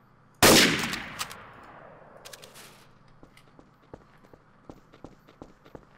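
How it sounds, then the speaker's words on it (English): Gunfire in the multiplayer video game Trouble in Terrorist Town: one loud, close blast that rings away, followed by a string of sharp, lighter shots scattered irregularly, with no voices. "I seem to have taken to just shooting at everyone"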